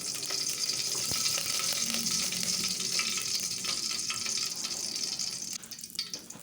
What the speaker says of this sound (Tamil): அதில் 2 ஸ்பூன் எண்ணெய் விட்டுக்கிறேன்.